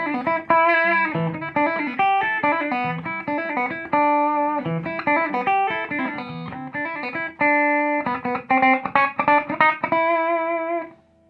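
Clean electric guitar with no distortion plays quick melodic phrases and chords alone, steady and close, ending on a held note that cuts off.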